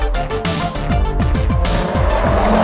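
A Volvo being driven hard, with loud engine revving and rapid rising pitch sweeps through quick gear changes, up close and continuous over a rushing road and wind background.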